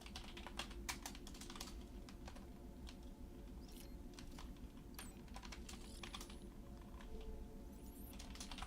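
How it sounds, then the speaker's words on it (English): Fingers strike a computer keyboard in a rapid, uneven clatter of sharp keystrokes, fairly quiet over a steady low hum, with no one talking. "Hits Y with all his might. Nearly breaking the keyboard itself."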